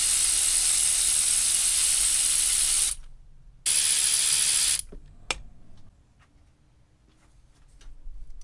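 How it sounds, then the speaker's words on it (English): Ratchet wrench works loose a car's brake booster in an engine bay: a loud continuous buzzing ratchet run, a brief pause, a second run, then a couple of clicks and quiet shop background. "I'm gonna go ahead and pull this brake booster out"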